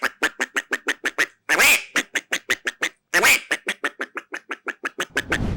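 A voice imitating a happy duck, producing rapid, loud, evenly spaced nasal quacks in quick runs, broken twice by longer raspy squawks, all up close and alone.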